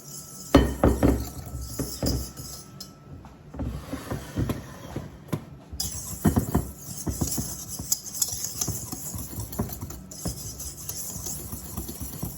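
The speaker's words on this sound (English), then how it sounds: "Whisk this together." Homemade Ovaltine mixture being whisked by hand in a bowl, quick clinking and scraping strokes of the whisk running continuously and fairly close, with no talking.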